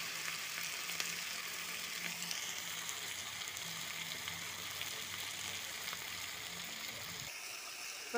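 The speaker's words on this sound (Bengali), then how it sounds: "তেলটা দিয়ে একটু নাড়াচাড়া চলতেছে" Meat fries in oil in a pan, a steady, soft sizzle running without a break while it is occasionally stirred, fairly quiet throughout.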